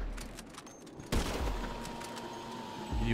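Gunfire in a sniper-versus-runner shooter video game, a sudden loud burst of rapid shots that continues as a dense crackle, with a second burst near the end.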